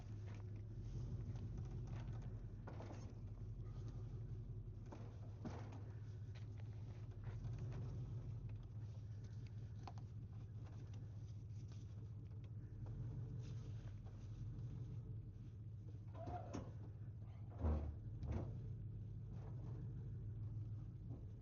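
A truck rolls down a dirt farm drive road at a watermelon harvest, a steady low rumble of engine and tires with soft patter and occasional bumps, heard from inside the cab without talk.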